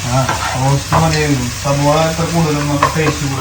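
Food frying in coconut oil gives a steady, close crackle and hiss throughout, with voices talking over the cooking.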